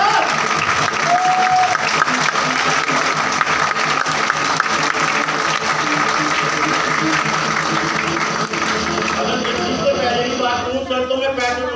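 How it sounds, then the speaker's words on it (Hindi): Loud, sustained applause from a seminar audience fills the room, dense steady clapping that continues throughout and thins slightly near the end, with a voice faintly heard beneath. "एक बार जोरदार तालियां हो"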